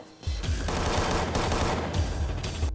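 Rapid bursts of gunfire in a tactical action film scene, loud and dense, a fast run of overlapping shots and sharp cracks filling nearly three seconds without pause.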